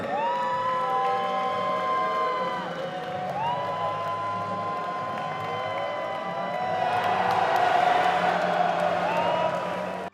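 Crowd cheering and whooping with scattered applause at the Ukrainian Cup trophy presentation, a steady loud roar rising near the end, with high shouted voices over it.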